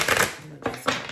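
Tarot cards are shuffled in a few quick, papery bursts close by, with a brief pause between them.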